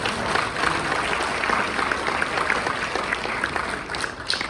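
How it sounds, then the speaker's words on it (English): Steady applause from a crowd at the Chili for Charity 2024 fundraiser, continuous, fairly even clapping held at a moderate level until it thins slightly near the end. "So a round of applause for Good Food Restaurants."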